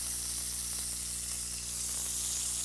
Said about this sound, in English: Then what you were looking for is all those brown bits that are on the bottom of the frying pan.